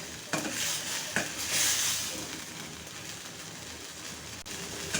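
Egg curry with spring onions and peas sautéing in a pan, a steady broadband sizzle with a few sharp stirring scrapes near the start and end.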